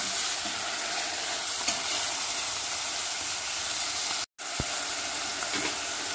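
Ground meat sizzles and fries in a pan until golden brown for miswa soup, a dense, steady crackling hiss close up, with one brief gap partway through.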